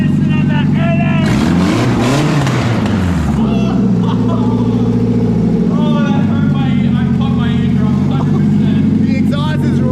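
A Nissan S14 with an SR20 engine fires up for the first time. Its exhaust blasts out a loud, rough idle with a sharp rev early on, then drops back to a throbbing idle. Excited voices shout over it.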